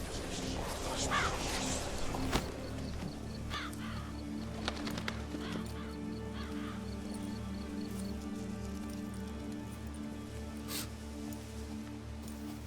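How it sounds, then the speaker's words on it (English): A raven caws in the Witcher 3 video game, a few distinct calls over a steady ambient game soundscape with soft background music and occasional faint effects. "What was that? A raven?"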